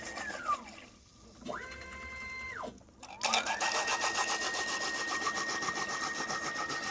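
A 29x29 matrix bottle filler machine fills 9 to 10 ounce cups, giving a steady whooshing, rushing flow with mechanical tonal whines that rise and fall as each fill cycle starts and stops.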